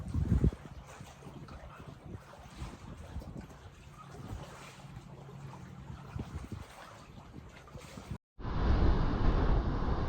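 Wind sweeps across an empty sandy beach, a low buffeting rumble with some microphone gusting, then a sudden loud, harsh burst of wind near the end.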